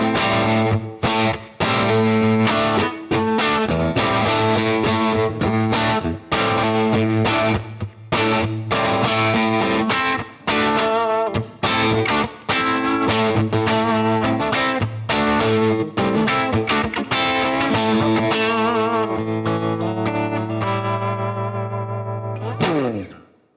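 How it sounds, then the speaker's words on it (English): Electric guitar played through an Immerse reverb effects pedal, with sustained distorted chords and notes washed in long reverb tails, loud and continuous, ending in a decaying ring-out. "That Immerse does a really good job of aping most of that reverb mojo."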